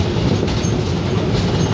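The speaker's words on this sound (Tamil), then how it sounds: "ட்ரெயின் போகிறது அந்த பாலம் இருக்கா" A train rolls over a bridge near the Thamirabarani river in Tirunelveli, a steady rumbling clatter of wheels on rails, close and continuous with no voices.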